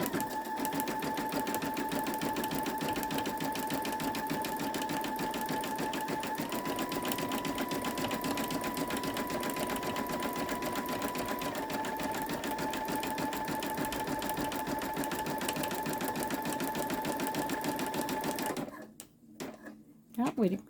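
A Babylock Esante embroidery machine stitches a sunflower onto a towel with a steady, fast mechanical whir. The motor pitch shifts briefly partway through, and the stitching stops near the end, leaving a few soft clicks.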